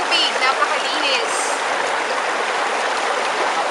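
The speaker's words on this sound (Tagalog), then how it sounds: "tubig na nanggagaling pa sa tuktok ng bundok" Water from a mountain stream rushes over rocks, a steady broadband wash that fills the clip at close range with no breaks.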